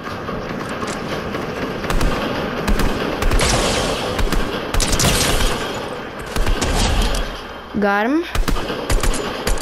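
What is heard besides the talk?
gunfire in Fortnite video game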